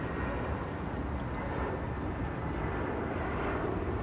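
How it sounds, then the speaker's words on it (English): Steady low rumble of a fixed-wing aircraft near an airport beside the Potomac River in Washington DC, a continuous engine drone with some wind noise, fairly distant and no talking. "the airport is right here, so we'll see some planes coming in and out"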